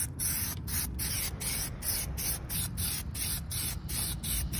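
An aerosol spray can applies a light first coat of Plasti Dip to car rims, a continuous close hiss broken by short, regular pauses between passes.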